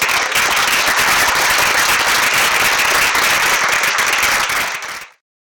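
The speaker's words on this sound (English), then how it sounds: "Huge round of applause for Derek, Sohyun." An audience at a design research, writing and criticism session bursts into a dense, steady round of applause that runs for about five seconds before cutting off abruptly.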